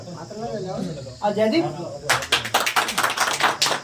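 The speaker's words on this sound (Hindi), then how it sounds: "सारे वन विभाग के कर्मचारी तालियों की गड़गड़ाहट से आज उन्होंने जाना है दूसरी जगह" Forest department staff break into lively applause at a farewell ceremony, the clapping rising suddenly and loudly after someone speaks, then continuing as dense, uneven rounds of hand claps.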